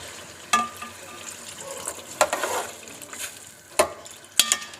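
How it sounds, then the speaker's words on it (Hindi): Water poured into a sizzling beef karahi, a Peshawari Shinwari dish, sets off loud bursts of hissing and spitting between quieter frying, with stirring clatter in the pan. "मैं थोड़ा सा पानी ऐड करूँगी इसमें।"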